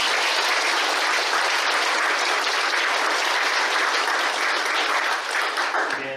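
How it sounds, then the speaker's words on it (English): A congregation at a church's 65th anniversary service applauds the anniversary committee, a full, continuous burst of many people clapping, fairly close and steady from start to finish. "So can you give a round of applause for them?"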